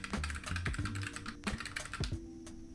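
Rapid keystrokes on a computer keyboard, a close, steady stream of clicky taps with a few slightly heavier presses, heard alone without talk.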